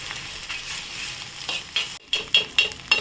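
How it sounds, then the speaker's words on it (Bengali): Egg being scrambled and broken into small pieces in a frying pan for soya egg rice: a soft steady sizzle with repeated scraping stirs that grow sharper toward the end, close up and without talk. "তাই এইভাবে ভালো করে ফ্রাইং প্যানের মধ্যে এটাকে ঘেটে দিতে হবে।"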